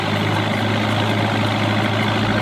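A Lincoln SA200 welder engine idles after starting, a steady, loud low rumble running continuously with no pauses or changes in pace.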